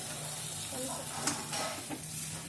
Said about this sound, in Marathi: पोळी टाकल्यानंतर व्यवस्थित हलवून घ्या, जेणेकरून ते खालचा मसाला वगैरे सगळं फोडणी आणि पोळी एकत्र मिक्स होईल।